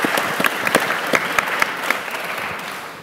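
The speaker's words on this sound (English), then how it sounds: "please, a round of applause for us." An audience applauds a panel of speakers, a close, lively round of clapping with distinct individual claps standing out over a continuous crowd wash.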